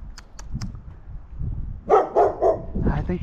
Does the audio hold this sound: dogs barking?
yes